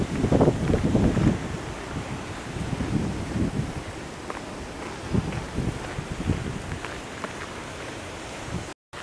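Strong, cold wind gusts across a Spanish seashore, a continuous loud rumble buffeting the microphone with heavier bursts near the start and no voices.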